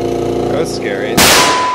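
A modified, supercharged air-powered Nerf rifle fires with one sudden loud burst of rushing air that hangs on afterward, just after a voice is heard.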